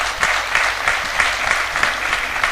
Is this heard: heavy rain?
no